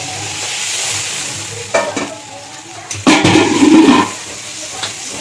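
Hot fish masala sizzling in a pan, then water poured in with a sudden loud hiss and bubbling burst that rises and fades over a few seconds, close up.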